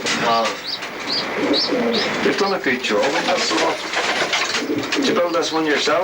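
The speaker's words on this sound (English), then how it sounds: "You've segregated all your pigeons" Racing pigeons coo repeatedly in a loft in East Belfast, their soft rolling calls close and steady beneath a man's conversation.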